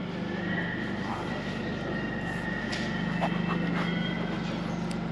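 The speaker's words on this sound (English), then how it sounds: "It's a train bound for Shenfield." A Shenfield-bound train at Whitechapel station, a steady rumbling hum with faint clicks and squeals as it runs, with someone talking over it.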